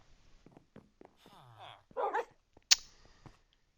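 Minecraft wolves bark and yip in the game, with a whiny tonal call followed by a rough bark and a sharp, loud yelp near the end. Quiet clicks of game sounds fill the gaps.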